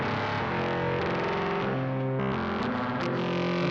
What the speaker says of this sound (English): And this is fairly heavy distortion, of course.